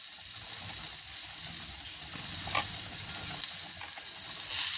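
Curry leaves and coriander sizzle in a spoonful of oil with tomato and onion for a North Karnataka holige katt saaru, a steady close frying hiss with soft stirring throughout.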